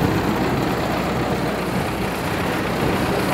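Tractor engine running for a tractor-pulling contest at a fair in Kapurthala, a loud, steady low rumble that holds close and constant throughout.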